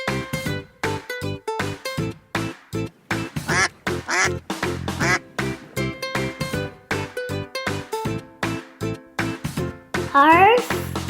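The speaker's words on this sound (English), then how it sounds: "Duck." Repeated duck quacks in a rapid, steady run over a continuous musical backing, loud and close, with a brief squeaky flourish near the end.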